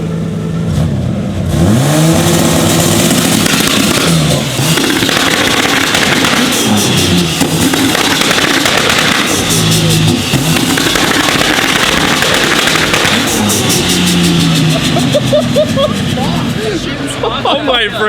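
A VL wagon with an RB30 engine and triple compound turbo setup revs hard and loud in repeated bursts, the raspy engine note climbing and dropping with crackling pops, while people shout and talk nearby.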